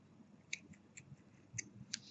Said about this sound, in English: And then just cut the loose yarn end.